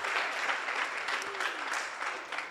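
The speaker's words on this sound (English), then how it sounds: "Let's give him a round of applause as he joins us." Audience applause greeting Steve Shege, Safaricom's Director of Corporate Affairs, as he joins the stage at a GDC Season 5 finals prize event; steady, moderately distant clapping from a crowd that holds evenly for a couple of seconds.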